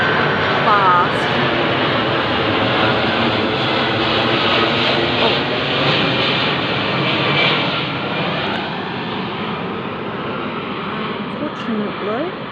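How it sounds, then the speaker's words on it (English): Airplanes fly overhead with a loud, continuous broadband engine roar that stays steady for several seconds and eases slightly toward the end. "I just showing these planes are going over"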